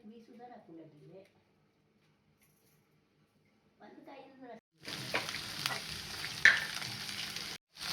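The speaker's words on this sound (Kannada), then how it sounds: "ಉದ್ದಿನಬೇಳೆ, ಸಾಸಿವೆ, ಹಸಿಮೆಣಸು, ತೆಂಗು, ಕರಿಬೇವು ಎಲ್ಲ ಹಾಕೊಂಡು ಒಗ್ಗರಣೆ ಹಾಕ್ಕೊಂಡು" Urad dal, mustard seeds, green chillies, coconut and curry leaves tempered in hot oil, a burst of sizzling crackle that starts abruptly after a quiet stretch with brief talk, then carries on loud and close to the end.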